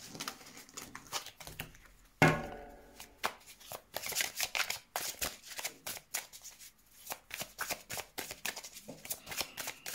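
Tarot cards are shuffled by hand for a reading: a quick, close, soft riffling patter in repeated bursts, with a brief sharper flutter early on and quiet pauses between the bursts.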